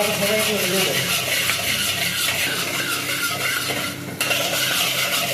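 Egg fried rice being stirred and scraped in a pan, a steady close rubbing and rasping of utensil against metal that continues throughout with a brief dip near the end.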